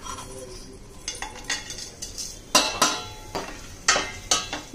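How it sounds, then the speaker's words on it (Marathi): A bay leaf and whole spices are dropped into a pan for vegetable pulao, with a series of sharp metallic clinks and taps of utensil against cookware, spaced irregularly and growing louder toward the middle. "पहिल्यांदा आपण आता तेजपत्ता घालूया आणि हे सगळे खडे मसाले आपण ह्यात घालूया"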